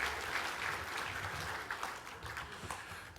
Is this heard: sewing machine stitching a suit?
no